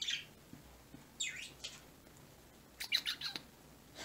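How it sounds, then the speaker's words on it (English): Indoor birds give scattered squawks and sharp chirps, a few separate calls followed by a quick burst of several notes near the end, fairly faint and with no talk over them. "And the birds are singing."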